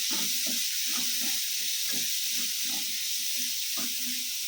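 Onion, garlic and green chili sizzle steadily in a hot pan, a soft continuous frying hiss with faint intermittent stirring and scraping sounds beneath it.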